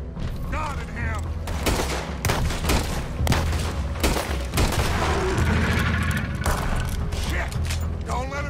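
Sustained heavy gunfire from Red Dead Redemption 2, rapid overlapping shots and cracks mixed with mechanical clatter, continuous and loud throughout, with voices shouting in between.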